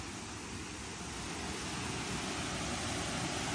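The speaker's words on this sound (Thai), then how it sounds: "น้ำตกทุ่งนาเมืองครับพี่น้องฮอดแล้ว" Thung Na Mueang waterfall in Pha Taem National Park, a steady broadband rush of falling water, close and continuous for a few seconds.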